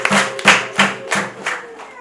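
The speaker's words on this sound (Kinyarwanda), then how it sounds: "kumera Imana amashyi" A church congregation claps in praise of God, with four or five distinct bursts of hand claps in a loose rhythm, fairly close and moderately loud, with some voices mixed in.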